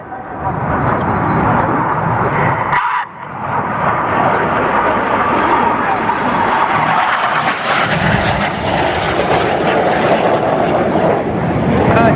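Red Arrows jets roar overhead during a formation flying display, a loud sustained engine rush that swells and briefly dips, with a commentator talking over it.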